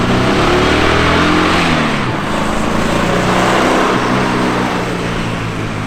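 A turbocharged Volkswagen Beetle engine revs loud and close, its harmonics rising then dipping as it accelerates and lets off, droning steadily throughout.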